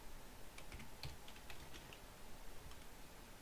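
Keys clatter on a computer keyboard in quick, irregular bursts of soft clicks, faint under a steady background hiss with no talk.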